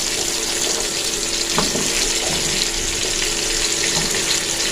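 Vegetables for bhuna khichuri frying in oil in a pan, tomatoes held back, giving a loud, steady hiss with an occasional stirring scrape, no voices.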